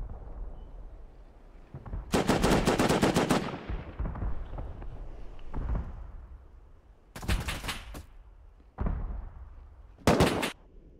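Gunfire rings out in the survival video game Rust: a long rapid burst of close, loud shots, then two shorter clusters of quick shots later, with softer rumbling between them.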